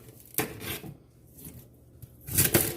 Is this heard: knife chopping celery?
yes